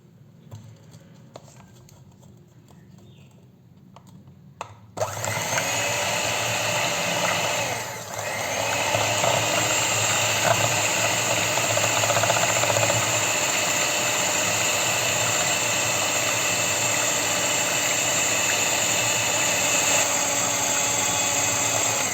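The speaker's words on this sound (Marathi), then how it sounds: "आता पुन्हा एकदा आपण हे बीटरने मिक्स करूया" An electric beater mixing cold coffee switches on partway through and then runs as a steady, loud whirring drone with a brief dip before it continues.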